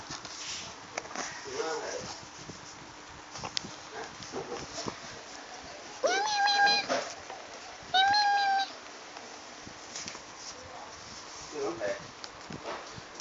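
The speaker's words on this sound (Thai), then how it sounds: "นี่ค่ะแมว เป็นแมวที่แบบว่าน่ารัก" A cat meows twice in short, clear calls under someone speaking Thai, with background household noise around them.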